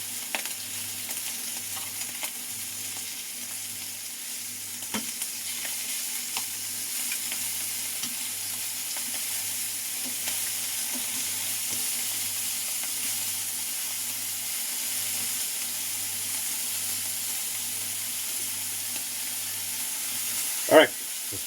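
Potatoes frying in a pan, a steady close sizzle and hiss that runs the whole time with a low hum underneath and one sharp clatter near the end; no one speaks.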